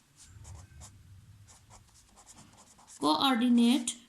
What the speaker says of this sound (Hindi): पहले हम लिखेंगे